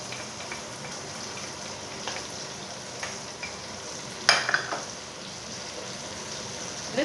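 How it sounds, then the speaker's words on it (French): Onions, garlic and parsley stirred as they fry in a pan for a rabbit tajine, a steady close sizzle with a few scraping stirs partway through, no talking. "Je vais mélanger et je vais laisser rôtir encore un peu"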